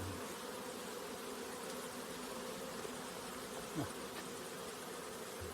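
Honeybees buzzing in a large traditional log hive, a steady droning hum heard close and fairly soft, with one brief louder pass near the end and no voices.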